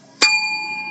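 A single bell struck once during a trivia game, a sharp bright ding that rings on with a long sustained tone.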